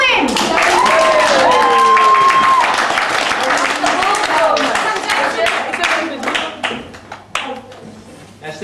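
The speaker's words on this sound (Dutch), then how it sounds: "dames en heren, daarvan de applaus voor onze kampkampioen Robin" A room full of people at a school camp claps and cheers loudly for a camp champion, with voices and a whoop over the applause, which tapers off toward the end.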